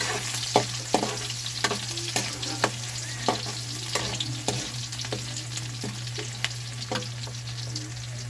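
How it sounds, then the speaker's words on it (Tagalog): Chopped garlic sizzles in hot cooking oil in a pan, with a continuous frying hiss broken by regular clicks of stirring, close by and moderately loud, no voices. "mainit na yung mantika natin. Lagay natin bawang"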